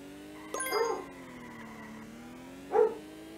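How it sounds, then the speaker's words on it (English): A small dog barks indoors, two separate sharp yips about two seconds apart, moderately near, heard over a quiet steady background hum. "My dog's being a little barky boy."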